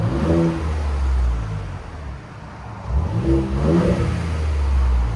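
Ford Raptor with a 3.5L EcoBoost V6 revving nearby through its exhaust, two strong rising-and-falling revs separated by a brief dip to idle.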